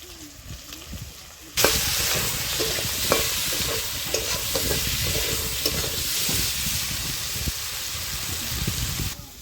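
Ginger, chilli and cumin pastes fry in a pan with potatoes, salt and turmeric, giving a loud, steady sizzle that starts abruptly and keeps going, with scraping stirs and occasional clatters on top.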